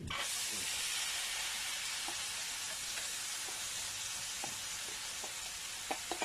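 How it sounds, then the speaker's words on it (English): Steady hiss and sizzle from rice tipped into a hot pan while making smoky concoction rice, a broadband frying crackle running the whole time with a few small clicks near the end, no talking. "So at this stage, I'm going to be adding my rice."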